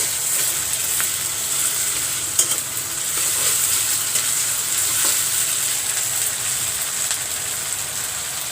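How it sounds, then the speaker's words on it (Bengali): Ginger garlic paste spits and sizzles in hot oil in a pan while cooking fish, a loud, dense hiss with scattered pops and a few stirring knocks, close and continuous. "দিয়ে দিলাম আদা রসুন বাটা।"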